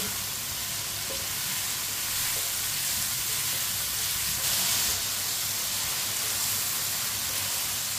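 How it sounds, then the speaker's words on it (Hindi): Tinda (apple gourd) sizzling and frying in a pan for a tinday ki sabzi, a steady broadband hiss that runs close and even throughout, with no voices. "टिंडों को भी मैंने थोड़ा सा भून लिया है।"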